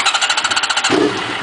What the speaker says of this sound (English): And let me start it up.